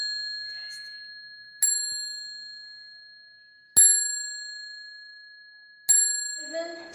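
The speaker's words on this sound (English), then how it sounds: "Cycle bells?" A bicycle bell gives three bright, separate dings about two seconds apart, each ringing clearly before decaying, and faint background sound follows the last one.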